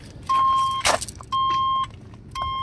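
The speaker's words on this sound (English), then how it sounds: "I can never make sense of this alarm." A 1989 Chevy Silverado's car alarm beeps in three sustained tones with short gaps between them, close and loud, with a jingling clatter in between.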